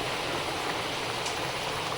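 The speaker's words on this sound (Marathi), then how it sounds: "पाऊस पडतोय जोराचा" Heavy rain pours down in a steady, dense hiss with no break, close and loud.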